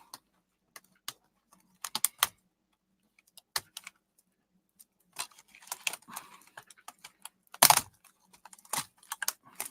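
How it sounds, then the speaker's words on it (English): A laptop keyboard being pried out during scrapping gives sparse, sharp plastic clicks and snaps in irregular bursts, close and fairly loud against near silence, with a louder crack toward the end. "So let's try to take out keyboard."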